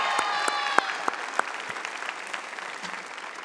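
Audience applause at a 2022 high school graduation ceremony for Altavista High School, a steady wash of clapping hands from a large crowd that fades gradually.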